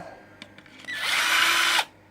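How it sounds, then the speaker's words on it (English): A power drill bores a hole for a potentiometer in a proton pack prop, starting after a few faint handling clicks, then whining steadily and loudly up close for about a second before stopping abruptly. "So let's drill."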